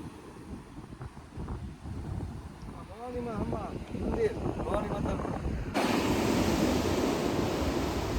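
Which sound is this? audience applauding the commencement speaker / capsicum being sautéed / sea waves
sea waves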